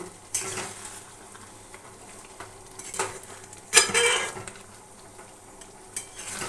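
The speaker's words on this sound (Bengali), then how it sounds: "দেখো বন্ধুরা মটনটা এখন ভালো করে কষিয়ে নিচ্ছি" Mutton being sautéed and stirred in a pan in a home kitchen, with soft sizzling, occasional scrapes and clinks of a spoon against the pan, and one louder stirring burst partway through, heard close up without talk.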